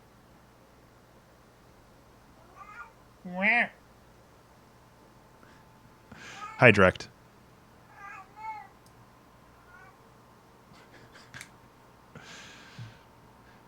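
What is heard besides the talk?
pet cat caterwauling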